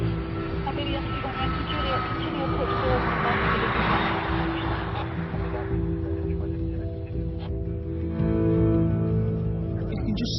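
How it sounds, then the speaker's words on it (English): Jet airliner approaching to land at Heathrow airport, a steady broad engine roar lasting throughout under ongoing background sound, swelling slightly toward the end. "there will be aircraft coming into land still"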